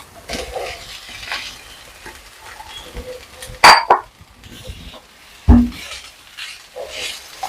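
Mashed boiled potato mixed into cooked beetroot and carrot for veg cutlets, with soft stirring and light frying sizzle plus a few sharp clanks of a utensil striking the pan.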